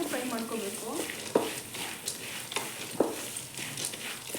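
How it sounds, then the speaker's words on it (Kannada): Poha mixture frying slowly over a low flame for churumuri, a soft steady sizzle with occasional scraping stir clicks, close by, while a voice speaks faintly in the background. "ನಿಧಾನಕ್ಕೆ ಫ್ರೈ ಮಾಡ್ಕೋಬೇಕು."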